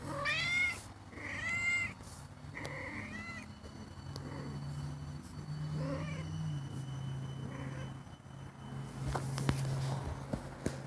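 A cat meows repeatedly at close range, giving several drawn-out, wavering meows and shorter calls over a steady background hum, with a few soft patters between them.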